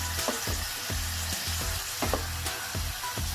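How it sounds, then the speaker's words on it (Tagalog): Ilocano igado, a Filipino liver and pork dish, sizzles steadily in a frying pan while a utensil stirs it continuously, scraping in a regular rhythm of clacks close up, with no voices. "dapat continuous ang paghalo natin para hindi masunog yung sa ilalim ng frying pan natin"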